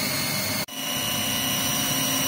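Haas TM1 milling machine spindle running at 4,000 RPM, a loud steady high-pitched whine with broadband hiss, broken by one brief dip before resuming.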